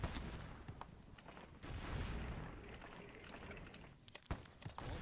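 Cannon fire booms in the Civil War strategy game Sid Meier's Gettysburg, scattered thuds and sharp reports over a rumbling background that thins out and grows sparser, leaving a few isolated blasts.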